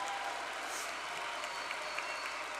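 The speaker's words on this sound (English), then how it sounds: "Turn around and give them a great round of applause for the work that they did in helping you get there." Audience applause at a university commencement ceremony, heard as a soft, distant, steady wash of clapping from a large crowd for a few seconds.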